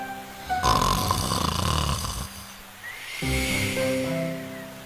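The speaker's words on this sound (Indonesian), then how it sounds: "Serigala mendengkur keras sehingga membuat cabang pohon bergoyang" Loud, rasping snores of a wolf with a rough, throaty rattle, two long breaths heard close up.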